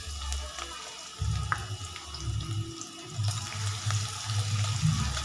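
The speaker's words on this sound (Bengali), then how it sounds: "এবার আমি তেলের মধ্যে দিয়ে দিচ্ছি কালো জিরে আর একটা বড় সাইজের কুচানো পেঁয়াজ" Black cumin and a large chopped onion sizzle in hot oil with a steady, hissing crackle that pulses unevenly. The sizzle is close but fairly soft, with no talk over it.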